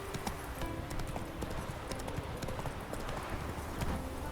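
Roach, a horse in the video game Witcher 3, trots with a continuous, even clip-clop of hooves. The hoofbeats are quiet and sit over low background game ambience.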